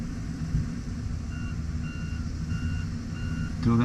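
A dump truck at a mine site sounds a steady series of evenly spaced reversing beeps over a low, constant engine rumble, with a louder burst of machinery near the end.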